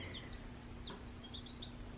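Baby chicks in an indoor cage give faint, scattered high peeps, a few short chirps spread over a steady low background hum.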